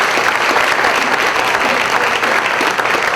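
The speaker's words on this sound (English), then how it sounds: "let's give these guys a round of applause." A crowd breaks into steady applause at a community gathering, thick continuous clapping at close range with no pause.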